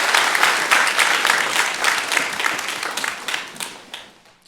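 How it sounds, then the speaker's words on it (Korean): A church congregation at a Sunday morning service breaks into loud, sustained applause, dense and steady throughout before tapering off at the end. "하나님께 영광의 박수 올려드리겠습니다"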